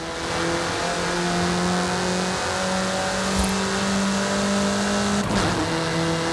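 Engine of a VUL 05, a track-focused supercar built in Mexico, accelerating in Forza Horizon 5: a steady, loud drone with sustained harmonic tones rising through gear changes, plus a brief sharp whoosh near the end.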